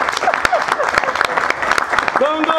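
Audience applause at a Congolese film event, a brief burst of sharp claps mixed with voices and a short shout near the end.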